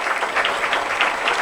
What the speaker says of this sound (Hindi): आए हम जोरदार तालियां बजाएं